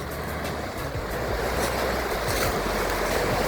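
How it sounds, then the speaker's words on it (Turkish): Rough, choppy sea waves crash steadily behind Paphos Castle in Cyprus, a continuous loud roar of surf mixed with wind buffeting, no voices. "Gördüğünüz gibi çok sert, hırçın bir denizi var."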